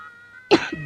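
A single sharp cough bursts out after a quiet moment, followed by a short low vocal tail.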